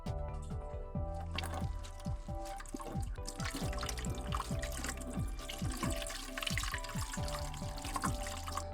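Silver recovery solution is siphoned out of a container, making a steady trickling and pouring flow of liquid with small drips throughout. Faint background music plays under it.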